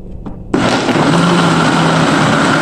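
An electric blender grinds peanuts, cashews and rice flour for vatapá, starting abruptly with a loud, steady whirring roar after a brief quiet moment, close and alone.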